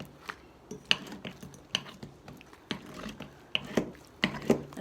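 A whisk clacks against a bowl of keto chocolate frosting in irregular strokes, each a sharp, close tap or scrape separated by brief pauses, fairly quiet with no talking.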